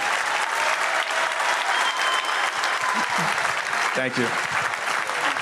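A crowd gives a round of applause for a player at a Gamecock sports preview event, a steady dense wash of clapping throughout, with a voice speaking briefly near the end.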